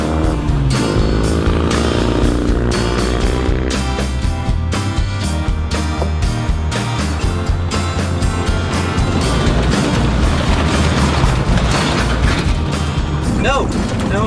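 A 1967 BSA Thunderbolt motorcycle rides at about 55 mph, its engine a loud, continuous, close drone with wind rush and steady shifting pitch, and a voice speaks over it.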